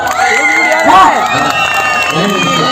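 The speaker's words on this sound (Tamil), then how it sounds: "எனக்காக எல்லாரும் ஒரு பெரிய கைத்தட்டில் கொடுங்க பார்ப்போம்" A crowd at a televised comedy stage show cheers and whoops loudly and continuously, with shouting and some clapping, close and sustained throughout.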